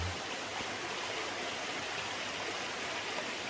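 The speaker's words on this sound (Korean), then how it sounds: "옆에 또 이렇게 한신폭포가 유유 흐르고 있습니다" Hansin waterfall on Jirisan mountain pours steadily in a broad, even rush of water that holds constant and fairly close throughout, with no voices.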